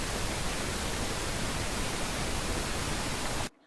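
Loud, steady pink noise test signal with a 12 dB crest factor at about -27 dBFS, a flat hiss that cuts off abruptly near the end into near silence.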